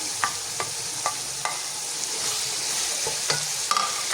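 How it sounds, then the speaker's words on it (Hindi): Boiled spinach being stirred into sizzling meat curry (palak gosht) in a pot: a steady fry hiss runs throughout, with several soft, sharp scraping knocks from the stirring spoon at irregular intervals, fairly close and alone with no voices. "और अब हम यहाँ पालक को शामिल कर रहे हैं, जो पहले से हमने बॉयल किया हुआ था।"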